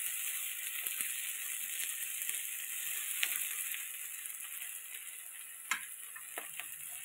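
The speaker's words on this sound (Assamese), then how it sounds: "মিছা মাছখিনি ভাজি আছোঁ।" Small shrimp coated in turmeric and salt frying in hot oil give a steady, close sizzle with a few sharp pops and spatters scattered through it, and no voices are heard.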